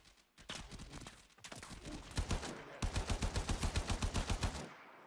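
Rapid automatic rifle fire from the Warframe video game, several bursts of sharp shots building into a steady fast string near the end, loud and close with no talk.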